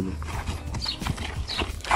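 Horse hooves clip-clop on town-centre pavement during a horse-drawn carriage tour in Lunéville, a close, steady rhythm of strikes with soft background noise.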